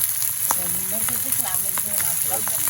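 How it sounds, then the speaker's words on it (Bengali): Small mourala fish frying in oil in a kadai, producing a steady, close hiss of sizzling throughout, with a voice faintly audible underneath. "আর মৌরলা মাছ কড়াইতে দিয়ে দেওয়া হলো"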